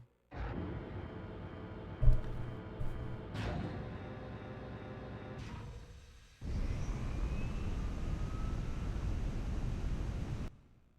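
An airplane in the Daxter video game drones steadily with engine hum and a few clunks, then cuts to a louder rushing roar of wind and engine that holds for several seconds before stopping abruptly.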